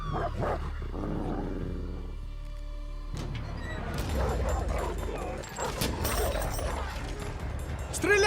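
A dog barks and snarls aggressively amid chaotic noise and shouting voices, the commotion growing louder toward the end.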